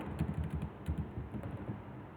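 Rapid, close clicking of keys as HTML code is typed on a computer keyboard, a continuous uneven patter of soft taps with no talking.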